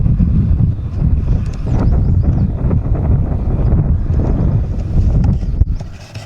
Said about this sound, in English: It's so windy outside again.